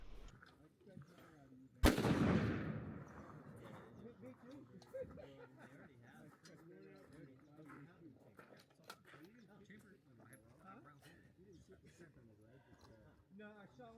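A single loud, close rifle shot cracks out at a 600-yard shooting match and decays quickly into a rumbling tail, followed by continuous talk.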